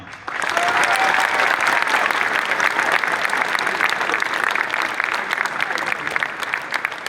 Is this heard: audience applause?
yes